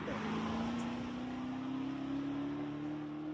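A car with its muffler deleted roars loud and close, a steady droning exhaust rumble whose pitch creeps slowly upward as it pulls away, with no voices over it.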